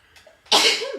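A quick sharp intake of breath followed by a single loud, explosive sneeze, close by.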